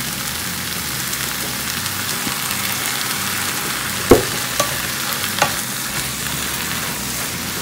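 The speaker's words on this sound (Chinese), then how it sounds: "加入鸡蛋之后转中火，加入一点盐，一点生抽调味" Eggs frying with chopped chives in a pan over medium heat give a steady, soft sizzle, broken by a few brief clinks and scrapes of stirring.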